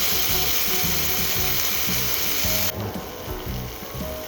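Tomatoes tipped into golden-brown onions frying over a medium flame in a pan for a cashew chicken curry, giving a steady, close sizzle that thins slightly partway through, with no talking.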